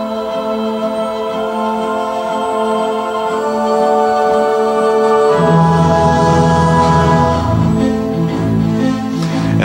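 A music demo built on a simple rhythmic idea and three chords, with synthetic voices carrying the melody; sustained synth chords shift partway through into a fuller, denser texture, loud and close with no talking.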